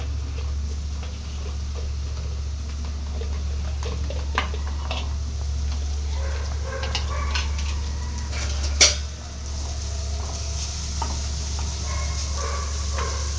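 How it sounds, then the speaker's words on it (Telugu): Carrot, cabbage and onions being stirred and fried in a pan for an egg roll filling, with scattered utensil clinks and scrapes over a steady low hum, one sharper clatter near the end. "క్యారెట్, క్యాబేజ్, ఆనియన్స్ అన్నీ మిక్స్ చేసేస్తున్నా."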